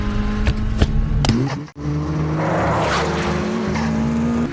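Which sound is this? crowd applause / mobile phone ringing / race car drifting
race car drifting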